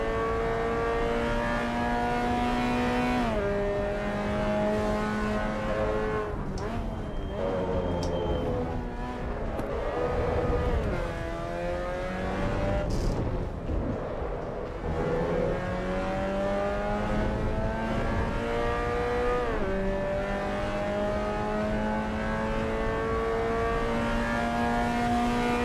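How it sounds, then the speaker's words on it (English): A race car engine in Assetto Corsa EVO revs hard through repeated upshifts and downshifts, the pitch climbing and dropping in close sweeps, with brief tire squeal and a steady loud drone throughout, no voices. "I quite like how this car sounds."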